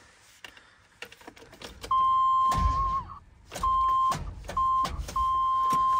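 Vehicle with dead batteries failing to crank: a few faint clicks and rattles, then repeated electronic chime beeps in short bursts with dull interior thuds, close and fairly quiet.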